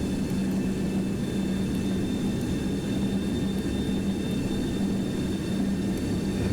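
Jet engines of a Boeing 727-100 in X-Plane 12 hold a steady, loud broadband roar with a low drone and faint high whine throughout, no talking.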